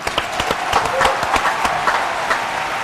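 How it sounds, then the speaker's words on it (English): Studio audience at a nighttime TV show in Fort Lauderdale clapping steadily, a dense round of applause with sharp individual claps. "the audience, please give her a round of applause."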